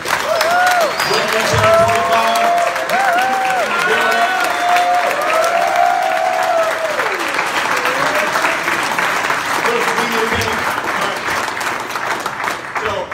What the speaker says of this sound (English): let's give a big round of applause for Darwin for coming up here.